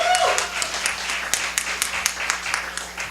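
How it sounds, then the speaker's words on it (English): A comedy-show audience applauds comedian Andy Merck at a semi-final, with steady, fairly close clapping running through the clip and a brief whoop right at the start. "Let's have a warm round of applause for Andy Merck."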